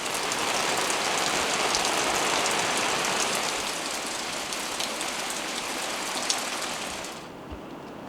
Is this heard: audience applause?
no